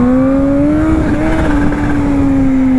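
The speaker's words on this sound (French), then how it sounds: "le compresseur là, on l'entend un peu plus là" Kawasaki H2 motorcycle with a supercharger, ridden on the road. A loud, steady mechanical whine runs throughout and rises slightly in pitch, layered over continuous engine roar close to the microphone, with no talking.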